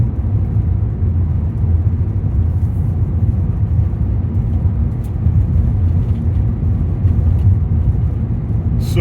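A car drives from Carrizozo toward Capitan, New Mexico on a warm August day, giving a loud, steady low road rumble and engine drone inside the cabin with no break.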